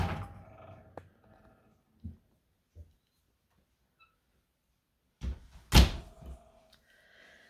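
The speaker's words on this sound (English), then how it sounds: "Let me shut these doors so I don't run into them." Doors in a family room are shut, with a few soft knocks and thuds early on, then a louder pair of closing bangs near the end in an otherwise quiet room.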